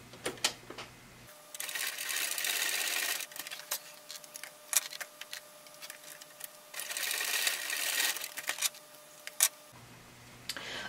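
A sewing machine with a walking foot and a leather needle stitches a leather bag, running in two steady whirring bursts separated by quieter ticks and clicks, close and fairly faint.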